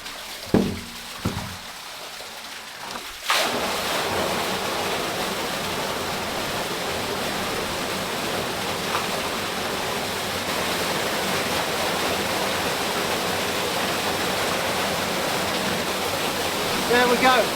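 A couple of wooden knocks and a heavy clunk as a drain board is lifted, then lake water gushes out in a loud, continuous roaring rush that holds steady to the end.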